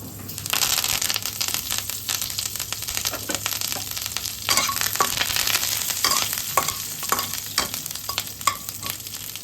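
Curry leaves drop into hot oil already holding cumin, fenugreek, and dried and green chillies, setting off a loud close crackling sizzle with bursts of spattering and stirring scrapes throughout.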